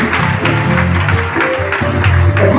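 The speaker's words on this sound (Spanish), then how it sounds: "Dale un fuerte aplauso al rey" Audience applause for the king at a Spanish-language evangelical church service, a steady wash of clapping across the whole stretch with music playing underneath and no spoken words.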